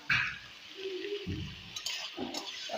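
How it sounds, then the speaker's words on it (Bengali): Potatoes frying in oil in a pan, a soft steady sizzle broken by scraping and stirring clinks from a utensil against the pan, close and fairly quiet. "ভাজি হয়ে যাক এখানে আলুগুলি ভাজি ভালো মতন লাল লাল হইয়া গেলে"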